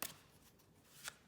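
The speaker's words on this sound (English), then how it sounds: "So this will be the first shuffle before I shuffle for all the sides." A deck of tarot cards is shuffled, giving a soft, quick riffle of cards that is faint and close, with a slightly louder flutter near the end.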